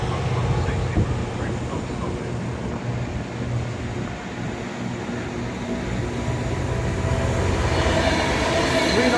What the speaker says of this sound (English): And there's Pendolino passing over there.